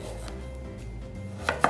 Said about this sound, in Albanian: Do të bëjmë prerjen e karrotës